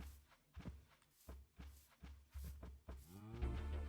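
Cattle lowing in the modded Minecraft pack GregTech: New Horizons, several deep game-sound moos repeating every half second or so, the last one longer and tonal, close and fairly loud with no talk.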